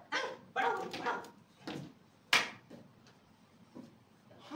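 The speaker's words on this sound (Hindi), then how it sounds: "कुत्ता भौंक रहा है भाई।" A dog barks during a Hindi stage play performed by a Mumbai theatre group: several sharp barks and yips come in irregular bursts with short whimpering sounds between them, fairly faint and without talk over them.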